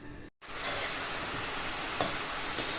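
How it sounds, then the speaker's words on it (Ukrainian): Steady sizzle of cabbage with carrot and onion frying in a pan, a continuous hiss with a brief break near the start and a few faint clicks of stirring. "Хай смажиться тепер."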